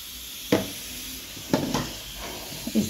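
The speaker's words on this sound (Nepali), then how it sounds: "म यो सजनाको फुल अन्डा लगाइकन भुटेको छु" Drumstick flowers with egg frying in a pan, a soft steady sizzle broken by three or four sharp scrapes and clinks of stirring, close by with no talk.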